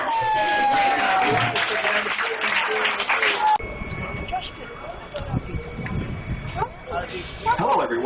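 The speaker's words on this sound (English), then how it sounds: "Let's give him a big round of applause" Applause from an audience on the Disney's Hollywood Studios backlot tour, a loud, dense burst that cuts off abruptly and gives way to quieter crowd noise with talking.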